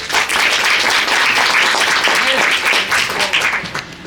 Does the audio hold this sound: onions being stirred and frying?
no